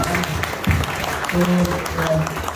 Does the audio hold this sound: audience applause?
yes